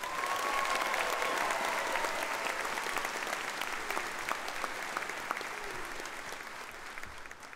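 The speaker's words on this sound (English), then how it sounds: "Let's give a final round of applause to all of our special graduates." Sustained applause from a large graduation audience, dense and even, slowly tapering over several seconds.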